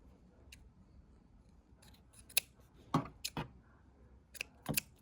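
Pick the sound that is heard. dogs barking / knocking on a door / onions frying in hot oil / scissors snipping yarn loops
scissors snipping yarn loops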